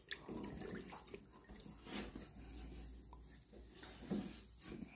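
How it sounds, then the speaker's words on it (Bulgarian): A plastic water dispenser container being scrubbed inside with a sponge and baking soda solution, a close, quiet wet rubbing and sloshing that comes in irregular strokes. "Бъркаме пак с гъбичката вътре и започваме да миеме навсекъде."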